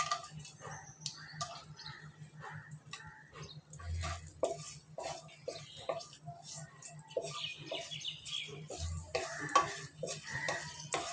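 Cashews and raisins fry in a pan while a spoon stirs and scrapes, a soft steady sizzle broken by repeated clinks and scrapes, with a voice speaking over the cooking.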